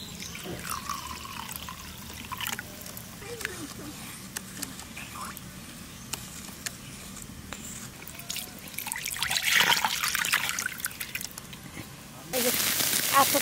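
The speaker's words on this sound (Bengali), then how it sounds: "এবার এই জল দিয়ে একটু গুলে নেব।" Water trickles and pours into a bowl of rice flour and chili paste for a climbing perch curry, soft intermittent pouring with a louder splash late on, against quiet kitchen background.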